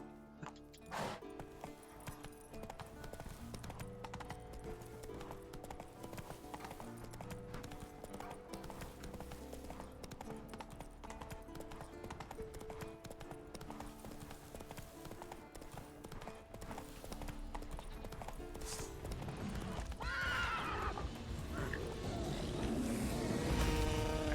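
In The Witcher 3, played on Xbox Series S, a horse's hooves clip-clop in a steady trotting rhythm for the whole stretch. The hoofbeats grow louder toward the end, and a whinny breaks through near the close.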